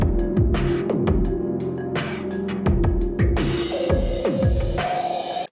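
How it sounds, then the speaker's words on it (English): A bass line plays a punchy, rhythmic pattern of short plucked notes. It runs through Muramasa MorphVerb reverb, which adds a washy tail, and bright hits come in toward the end. The mix is loud and has no voices. "This is it with the reverb."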